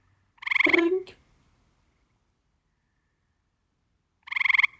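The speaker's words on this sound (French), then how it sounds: "Vous entendez le trink, trink." Gray treefrog (versicolor treefrog) calls in a Quebec biosphere region frog survey: two loud, clear musical trills about three seconds apart, each lasting under a second, with silence between and no voices.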